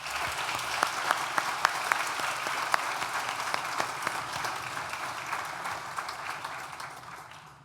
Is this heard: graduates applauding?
yes